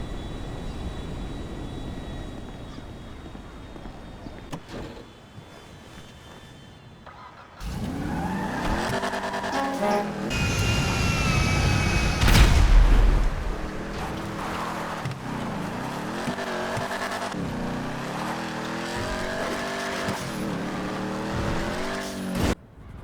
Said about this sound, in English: At the airport, Franklin found a car he liked and drove it